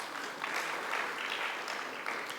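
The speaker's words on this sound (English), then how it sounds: "Let's give him another big round of applause." A crowd applauding steadily, a dense patter of many hands clapping, fairly faint and distant.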